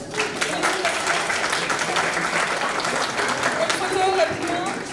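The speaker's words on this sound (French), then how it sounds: "Bravo, on peut les applaudir." Audience applause at an International Francophonie Day event, a dense, sustained round of clapping with some voices mixed in.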